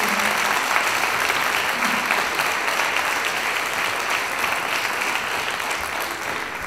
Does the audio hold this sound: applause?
yes